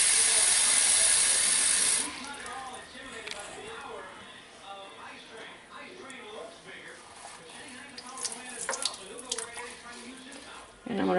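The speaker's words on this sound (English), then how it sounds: "I'm going to cover them with warm water." Warm water pours loudly over fine silver jewelry pieces for about two seconds with a bright hissing rush, then stops, followed by quieter clinks and handling noises.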